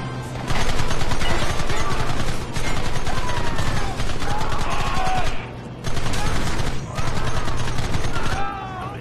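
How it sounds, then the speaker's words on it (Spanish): Rapid bursts of gunfire from the Western video game Red Dead Redemption on Xbox 360, loud, dense volleys with brief pauses between them, while someone talks over the shooting. "Van a cualquier lado de los tiros."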